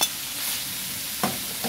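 Chorizo sizzles steadily in a frying pan as it is stirred, a continuous close crackle with two brief louder scrapes of the utensil near the end.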